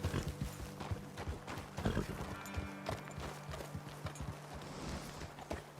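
Rhythmic clip-clop of horse hooves walking in the video game Red Dead Redemption 2, steady and fairly quiet, with a faint whinny in the background.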